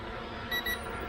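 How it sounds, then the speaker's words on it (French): Cheap brushless drone with a low battery, giving two quick high-pitched electronic beeps in a row over steady background noise, close by, with no talking. "C'est pour ça que ça bip."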